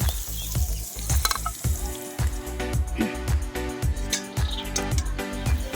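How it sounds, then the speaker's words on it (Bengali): Green peas fry in hot oil in a pan, a steady bright sizzle with crackles running through, joined by repeated scraping and stirring knocks at a close, even rhythm. "এবার ওই তেলে মটরশুঁটিগুলোকে ভেজে নেব"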